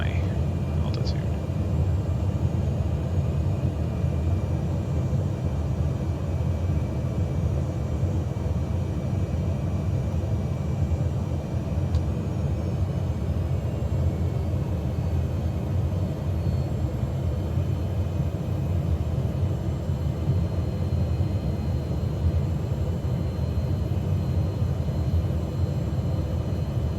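Cessna light aircraft in flight over Lake Tanganyika, heard from inside the cabin as a constant, loud, unbroken engine and airflow drone with no change in pitch.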